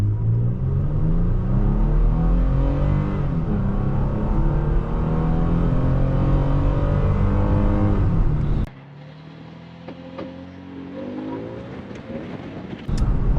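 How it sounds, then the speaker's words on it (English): A 2023 Toyota Tacoma mid-size pickup truck accelerates hard, its engine note climbing steadily in pitch for several seconds, then cuts to a quieter stretch with a second rising rev before the roar returns loudly at the end. "When you accelerate and you actually gain traction in a truck like this, it takes off relatively well."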